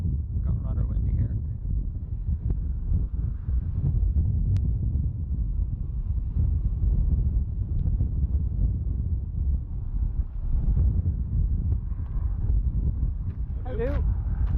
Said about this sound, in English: It could be the wind cancelling out my dulcet tones